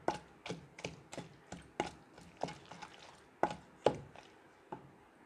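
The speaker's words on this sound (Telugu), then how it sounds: "కచ్చా పచ్చగా లేకుండా టమాటాలు బాగా మెదిగే వరకు దంచుకోవాలి" Stone mortar pounding of tomatoes, green chillies and tamarind for a Telugu okra-tomato roti chutney: a steady series of about a dozen dull, close thuds with hollow knocks, spaced fairly evenly, with no talking.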